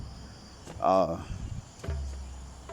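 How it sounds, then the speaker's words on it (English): A constant high-pitched insect drone hums in the background, with a short voice-like sound and a few soft knocks over it. "You all may recognize the sounds of the cicadas"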